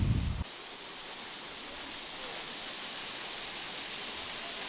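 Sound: waterfall in Amasra, Turkey

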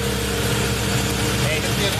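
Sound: Porsche GT3 engine running with new exhaust

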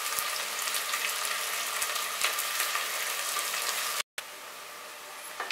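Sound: chopped onion frying for mutton kosha

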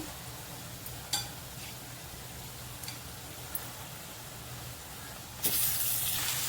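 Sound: marinated chicken pieces sizzling in pan with fried onions

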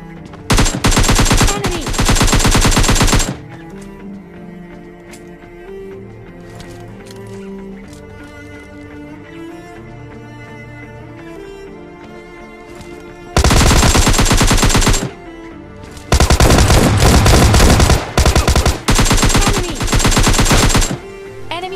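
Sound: gunfire in PUBG Lite video game

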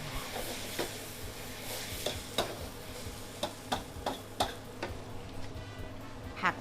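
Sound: stir-frying vegetables for pad thai

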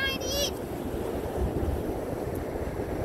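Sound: strong wind

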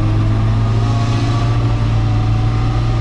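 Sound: Opel Manta engine revving on a dynamometer

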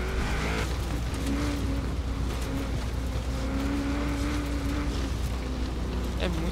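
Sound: video game car driving on dirt

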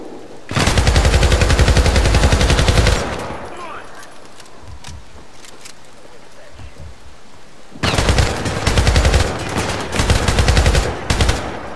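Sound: gunfire from the video game Syndicate (2012)

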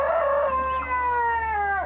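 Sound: dog imitating a rooster crowing

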